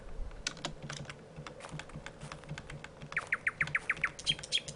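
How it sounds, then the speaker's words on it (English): In the game The UnReal World, a bird gives a quick series of repeated chirps near the end, faint against soft, continuous keyboard tapping. "Yeah, I hear you, bird!"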